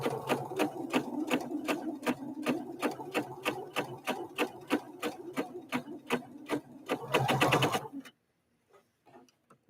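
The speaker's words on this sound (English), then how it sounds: "let's stitch down and try a straight stitch on this" A Husqvarna Viking Opal 650 sewing machine runs a straight stitch in a fast, even stream of needle ticks, close and steady for about eight seconds before stopping abruptly, leaving a few faint clicks.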